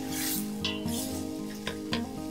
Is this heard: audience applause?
no